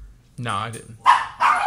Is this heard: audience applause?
no